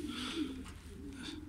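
Cooing of a captured pigeon, a low soft repeated murmur close by, with faint background noise and no speech.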